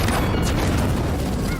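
Barrage attack explosions in a video game roar as a dense, loud, continuous stream of booms and crashes.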